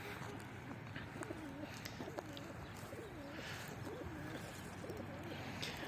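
A pigeon coos repeatedly in soft, rolling phrases, fairly close, over a light background hiss with faint chirps from other birds.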